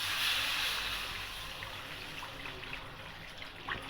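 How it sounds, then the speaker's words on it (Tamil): A ladle of water is poured from a silver ladle into simmering tomato rasam, giving a soft, steady splashing hiss that fades slightly as it goes on, heard close with no talking. "இப்போ நம்ம ஒரு கோலை தண்ணி ஊற்றுவோம்."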